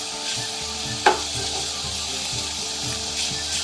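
Steady crackling sizzle of bacon frying in a pan, continuous and close, with a brief clink partway through.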